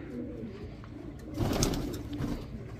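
Cooing from a roughly five-year-old male pigeon bought at Karachi, a low, throaty, rolling coo that swells midway against a steady backdrop of other birds.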